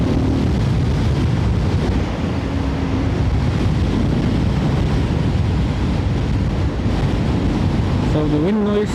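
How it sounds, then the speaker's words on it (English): Steady, loud wind buffeting against a motorcycle helmet while riding a country road on a summer day, a continuous roaring rush throughout with a faint engine drone near the end. "the wind noise you are hearing is only from the wind hitting the helmet"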